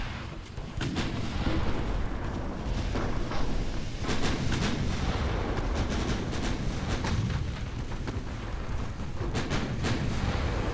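Naval gunfire in the warship battle game Ultimate Admiral Dreadnoughts: repeated heavy cannon booms and blasts crackle over a constant rumbling battle din, sounding loud and dense throughout with no speech.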